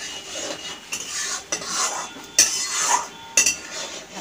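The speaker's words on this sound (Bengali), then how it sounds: "কিছুক্ষণ কষিয়ে নেবো, ঢাকা দিয়ে কষাবো।" Spiced fish and eggplant masala with salt and chili powder being sautéed in a pan, a spatula scraping and stirring in uneven strokes over a soft, low sizzle.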